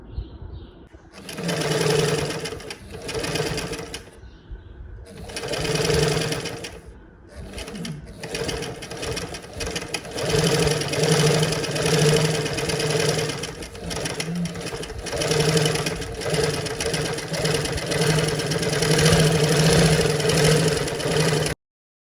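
A sewing machine stitches around the neckline of a boat neck blouse, running in a few short bursts at first and then in long steady whirring runs, close and loud.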